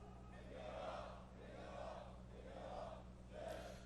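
A crowd of workers at a railway facilities and electrical union rally chants a slogan in unison, repeating the closing line in four rhythmic, roaring bursts at a distance.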